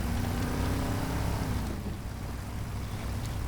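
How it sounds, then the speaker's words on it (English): A Jeep engine revs in the truck-driving game SnowRunner, with an oddly pitched, droning note. The engine is loud at first, then settles to a lower, steadier hum after a couple of seconds. "The Jeeps in general have a very weird rev sound to them."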